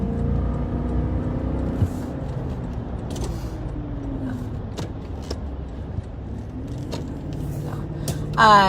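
A car driving in traffic with a steady low engine and road rumble, gear and speed shifts audible as the tone slides, occasional clicks, no clear brake squeal.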